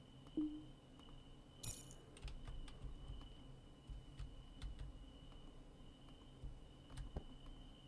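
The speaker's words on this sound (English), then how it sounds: "Pick up keys." Keys are picked up in the video game The Man From The Window, giving a faint jingle and metallic clink, followed by soft scattered clicks and taps over a quiet hum.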